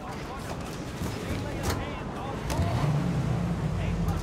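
A 1930s-style car driving in Mafia: Definitive Edition, a low engine rumble that swells louder partway through, with voices talking over it.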